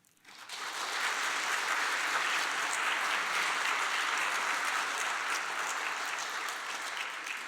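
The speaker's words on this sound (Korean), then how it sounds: "김민철 목사님 잠시 일어나면 우리 크게 박수해 주시고 격려해 주시기를 부탁을 드립니다." A church congregation applauds Pastor Kim Min-cheol, swelling quickly into steady, sustained clapping from a large crowd that holds at full strength for several seconds before easing slightly.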